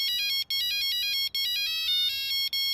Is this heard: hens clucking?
no